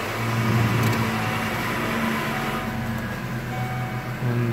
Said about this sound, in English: I like to hop in and go ahead and start it up.